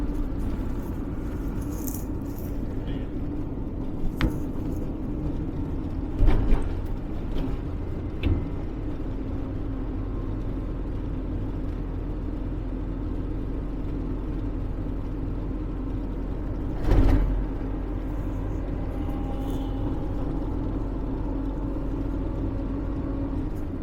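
A car driving along a straight Roman road in Northumberland, heard from inside as a steady low engine and road rumble, with a few brief knocks and rattles standing out and no one speaking.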